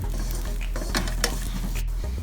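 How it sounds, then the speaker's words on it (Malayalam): Stir-fried clam meat with coriander powder is stirred in a pan, a spatula scraping and clinking against the metal over a low sizzle and steady hum, brief and close. "ഇനി നമുക്കിത് ഇളക്കി കൊടുക്കാം."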